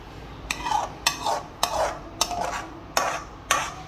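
A utensil stirs creamy chicken white sauce pasta with chilli flakes in a pan. Six evenly spaced clinks of metal against the pan are each followed by a soft, wet scraping swirl, close and fairly quiet.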